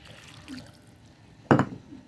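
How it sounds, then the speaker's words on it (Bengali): A small amount of water splashes into a cooking pot of meat and jackfruit seeds in one short, close burst after a quiet moment. "দিয়ে দিলাম পানি।"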